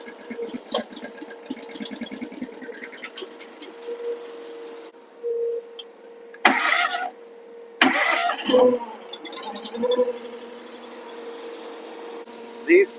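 Wolfe Ridge 17VS firewood processor engine, being started and warmed up outdoors: bursts of cranking and catching engine noise interrupt a steady mechanical hum, with someone talking through much of it.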